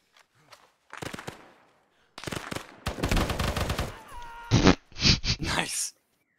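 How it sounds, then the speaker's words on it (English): Combat in Arma 3 Vietnam, with sharp, loud bursts of gunfire and heavy blasts that may be mortar rounds, arriving in clustered volleys with short quiet gaps and a brief voice early on. "We've got mortars."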